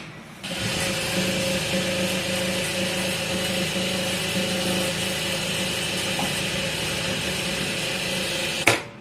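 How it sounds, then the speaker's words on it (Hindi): A sewing machine runs steadily for about eight seconds, stitching a sleeve hem on a frilled boat-neck garment, its motor drone close and continuous and then stopping with a brief clunk near the end. "इसके ऊपर भी एक पैर की सिलाई लगा देंगे"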